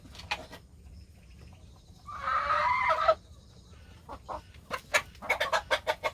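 Ameraucana, Ogol and native Korean chickens feeding on a native Korean pumpkin snack in their coop, scattered soft clucks and short calls with one louder, sustained squawking burst near the middle, close by.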